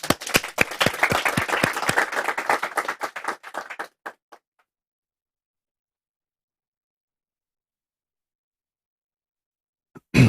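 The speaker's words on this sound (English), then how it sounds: "So let me invite Brother Steve with a round of applause" A small audience applauding to welcome Brother Steve, distinct nearby claps for about four seconds that thin out and stop, followed by silence and a brief sound at the very end.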